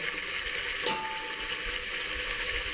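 Chicken curry frying in a pan with ginger, garlic and onion paste: a steady close sizzle with faint stirring and bubbling, evenly loud throughout.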